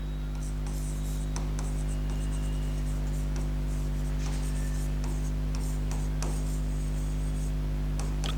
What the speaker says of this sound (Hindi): तो पहले सारी चीजें हम लिख लेंगे।